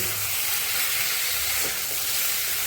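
Greens stalks frying with coriander-cumin powder and mustard paste for a chorchori, giving a steady, even sizzle and hiss that fills the background without a break, close and moderately loud.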